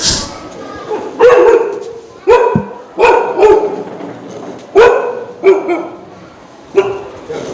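A dog inside a government school barks repeatedly and loudly at close range, with sharp barks arriving in irregular bursts across the whole stretch.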